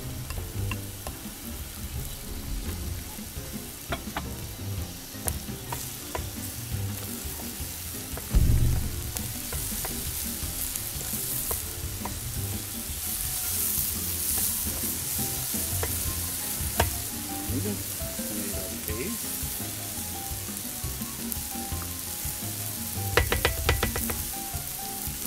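Onion and tomatoes sauté in a wide paella pan, giving a steady sizzle and crackle throughout with repeated scraping stirs and a few louder clanks of the spoon against the pan, no voices.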